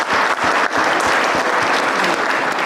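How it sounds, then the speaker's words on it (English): Loud, sustained applause from a crowd, a thick continuous wash of clapping with a few sharper claps standing out. "Please give all of these guys a round of applause for it."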